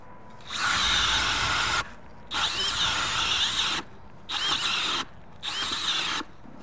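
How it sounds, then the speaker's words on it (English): An ice auger boring a hole through lake ice while ice fishing for crappie, running in four loud close bursts separated by short pauses, with no talking. "now I'm gonna go drill a hole"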